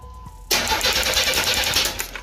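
A 1986 Cutlass with a 231 V6 and a fuel delivery fault cranks steadily after a brief quiet start, the starter's rhythmic churning loud and close without the engine catching.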